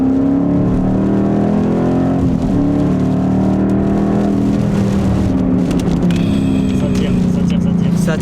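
A Ford Mustang Boss 302 V8 accelerates hard, its side-exit exhaust giving a loud, continuous low roar that rises in pitch through the revs, heard from inside the car with a steady whine in the background.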